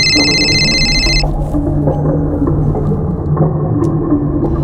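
A phone rings briefly with a bright electronic trill at the start, then cuts off, leaving low rumbling background noise and faint movement.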